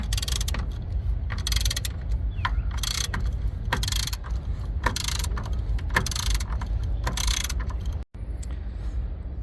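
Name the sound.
ratchet with 13mm socket removing Jeep Compass battery holder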